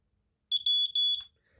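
Smoke detector from the KA30-2 series sounding during a test: three sharp, piercing beeps in quick succession, loud and close, with near silence before and after.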